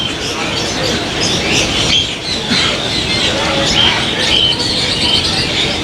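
Birds chirp and call steadily through the busy din of an exotic bird market in Karachi where green-winged macaws are kept, with continuous crowd noise and chatter around them.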